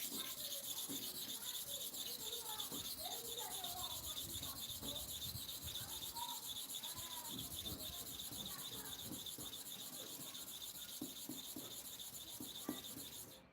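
Clipper blade rubbed back and forth on a sharpening surface, a faint, close scraping rhythm of repeated strokes over a constant high hiss.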